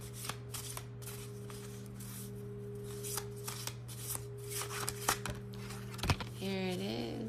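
Oracle cards being shuffled by hand: a run of quick papery riffles and soft taps over a low steady hum, with a brief voice near the end.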